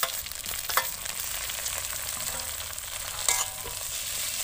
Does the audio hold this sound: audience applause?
no